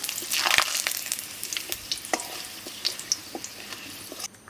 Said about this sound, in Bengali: তেলে আমি ফোড়ন দিব শুকনো লঙ্কা, পাঁচফোড়ন আর এলাচ আর দুটো তেজপাতা